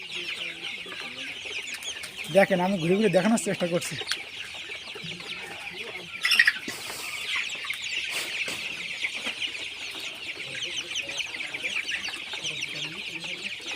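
Chicks and hens of the golden chicken breed cluck and cheep on a poultry farm, a steady chorus of close peeping with a few louder squawks, while someone talks briefly.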